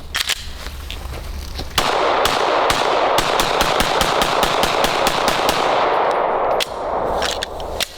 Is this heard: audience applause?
no